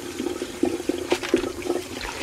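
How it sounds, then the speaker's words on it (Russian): Cold water pours over freshly boiled mung beans in a kitchen, a close, steady splashing with small gurgling bursts throughout, no voices. "И заливаю еще раз холодной водой."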